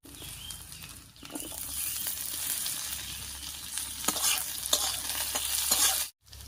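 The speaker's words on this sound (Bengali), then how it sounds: "পেঁয়াজটা হালকা লাল করে ভেজে নিয়েছি, এবার এর মধ্যে কেটে রাখা আলুটা দিয়ে দিচ্ছি" Potatoes tossed into a pan of oil with lightly browned onions sizzle steadily, with scraping stirs and small clinks throughout, close and fairly loud, ending in a brief break of silence.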